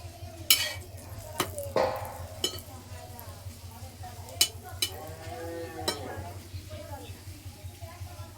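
Sattu paratha cooking in a pan with oil, a soft sizzle under scattered sharp clinks and scrapes of a utensil against the pan, fairly close.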